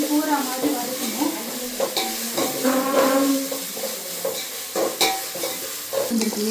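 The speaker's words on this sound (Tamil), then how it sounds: "அந்த இஞ்சி பூண்டு பேஸ்ட்டோடு சேர்த்து வதக்கணும்" Onions with ginger garlic paste for mutton biryani sauté in a pan, giving close sizzling and repeated spoon scrapes with clanks against the pot, under steady cooking noise with some voice-like sounds mixed in.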